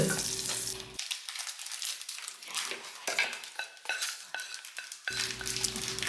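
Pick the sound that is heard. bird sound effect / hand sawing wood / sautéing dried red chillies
sautéing dried red chillies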